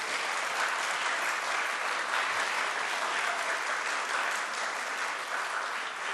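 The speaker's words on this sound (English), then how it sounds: "Please give them a round of applause." An audience at a humanitarian law moot court competition breaks into sustained applause, dense even clapping that stays loud and steady for several seconds with no talking.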